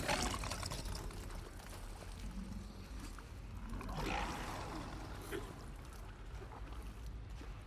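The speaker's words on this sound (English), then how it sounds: "Do we want to try the water? Does it make noise?" Water sloshing and splashing as someone wades through it in The Last of Us Part II, soft and fairly faint, with a steady watery churn and a few small surges.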